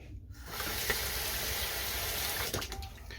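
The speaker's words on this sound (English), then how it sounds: "I just run it under some water, angled this way." A straight razor blade is rinsed under a running tap, a steady close hiss of flowing water that starts abruptly and continues without a break, with small splashes near the end.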